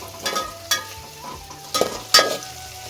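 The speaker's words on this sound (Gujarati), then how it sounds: "હવે ડુંગળી નાખી દેજો મિત્રો સડવામાં, કેમ કે ડુંગળીને થોડીક વાર લાગી જાય" Sliced onion sizzles in hot oil in a pan for a village-style vagharelo rotlo, a close, steady fry broken by several sharp scrapes of stirring.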